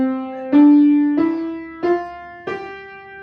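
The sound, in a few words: piano playing a beginner's musical phrase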